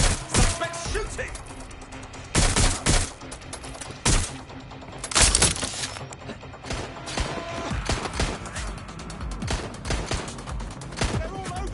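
Shootout gunfire in Watch Dogs Legion, with sharp repeated shots and short bursts crackling at irregular intervals, some close and loud, over a background of game noise.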